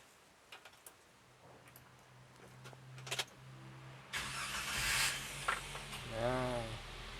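A 2022 Daihatsu Gran Max engine cranks and catches after a few quiet clicks, settling into a loud idle hum with a rising whir, heard alone.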